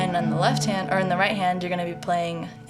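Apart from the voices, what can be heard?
No distinct noise like a dog, phone or traffic.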